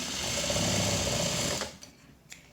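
A sewing machine runs a quick burst of stitches to tack down elastic on a fabric face mask, a close, fast mechanical whir lasting about a second and a half, followed by a couple of soft clicks.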